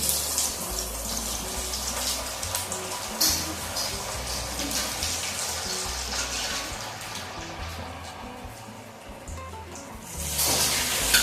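Oil frying batti dough balls for a Marathi varan batti dish, a steady loud hiss and sizzle with continuous crackle throughout, swelling again near the end, no talk.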